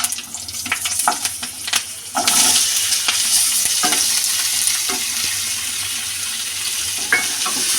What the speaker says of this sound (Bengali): এটা আমি ভেজে নেব।